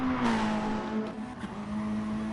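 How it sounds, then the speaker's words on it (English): A Lexus race car's engine at Bathurst holds a steady, loud drone for over two seconds with a slight pitch dip as it flies along, close and continuous, with no talk. "CCH flying in that Lexus right now."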